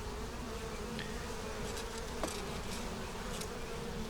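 Honey bees hum steadily around an open hive during an inspection, a soft continuous buzz with a few individual bees droning close by.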